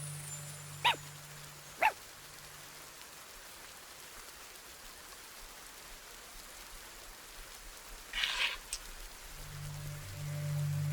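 A dog in a mystery detective video game gives a couple of short, sharp barks early on, then falls quiet under steady rain-like ambience, followed by a brief louder burst near the end.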